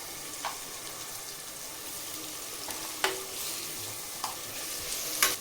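A spoon scrapes and stirs chili powder and spices into dal khichdi frying in a pan, steady sizzle with several sharp scraping clinks spaced irregularly, close and fairly quiet, no talking.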